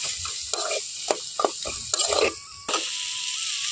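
A fish head drops into hot spiced oil in a pan while arum stolons curry is cooked, giving a bright, hissing sizzle with stirring clatter and a few sharp scrapes, close and continuous.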